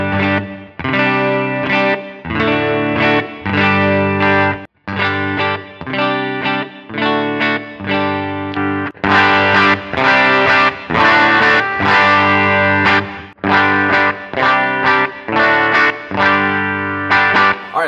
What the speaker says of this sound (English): Volumes are all the way up on the guitar, tone knobs are all the way up, and I was playing the same thing.